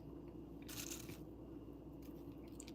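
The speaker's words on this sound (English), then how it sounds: "And then we'll add crunchy onions." Crunchy fried onions scattered onto shrimp tacos with corn and coleslaw mix: two short, faint dry crackling rustles, the first longer and the second briefer, in a quiet kitchen.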